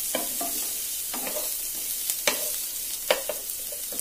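A mixture fries in a pan while a utensil stirs and scrapes it, several sharp clacks and scrapes standing out over a soft, steady sizzle.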